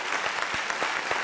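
A studio audience applauds on a music show, a brief, even patter of many hands clapping together at moderate loudness, with no talking.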